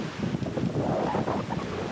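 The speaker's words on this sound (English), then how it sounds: "It's a little windy today." Strong wind buffeting the microphone, a constant low roar with gusty swells throughout.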